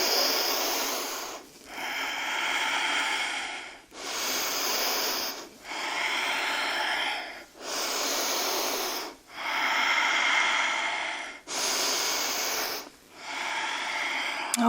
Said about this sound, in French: Encore une respiration.